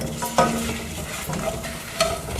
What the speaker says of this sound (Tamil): இது எல்லாத்தையும் நல்லா வறுக்கணுங்க.